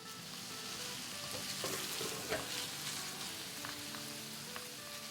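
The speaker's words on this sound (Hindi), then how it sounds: "चिकन का कीमा जो कि 1 पाउंड है। इसे बस हम 2-3 मिनट ही फ्राई करेंगे" A pound of chicken mince fries in a pan, giving a dense, continuous sizzle with occasional soft stirring clicks, fairly quiet and close, without speech.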